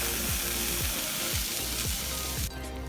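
Burger patties sear on a flaming grill with a dense, loud, continuous sizzle, punctuated by several rhythmic scraping or ratcheting strokes, with no talking.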